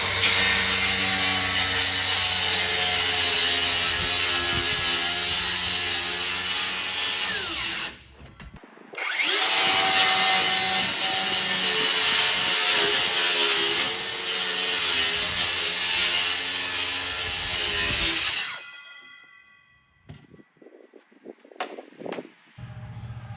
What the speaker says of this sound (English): I'm gonna cut it off with my my circular saw